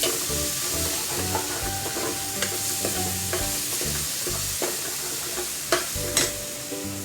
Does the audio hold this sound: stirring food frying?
yes